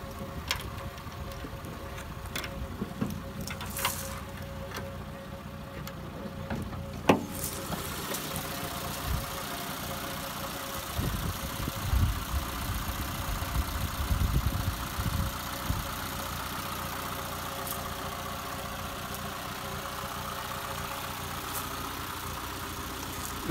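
A Peugeot 106 Independance engine idles steadily with a low, even hum, heard close from the engine bay, with a few faint clicks and a brief knock.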